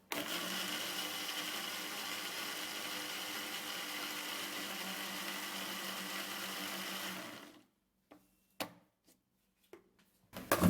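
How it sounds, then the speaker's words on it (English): A small blender whirs steadily for about seven seconds, then stops abruptly, followed by a few brief knocks and clatters. "since I have a little blender, I'm gonna be blending my ingredients one after the other."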